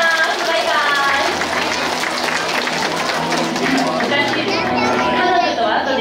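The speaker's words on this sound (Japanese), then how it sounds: "皆様もう一度大きな拍手をお願いします。" Audience applause at a cat show at Nasu Zoo, a dense, steady clapping from a crowd that continues throughout, with a voice speaking and crowd chatter mixed in.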